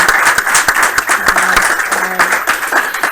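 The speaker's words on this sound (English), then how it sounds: "another round of applause for everybody." Audience applause fills the room at a game studio build review, dense steady clapping from a gathered group with a few voices mixed in beneath.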